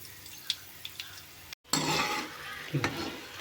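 Chana dal, mustard seeds, cumin and curry leaves dropped into hot oil in a village kitchen: faint scattered pops at first, then after a brief gap a burst of loud sizzling that settles into a steady frying hiss with occasional crackles.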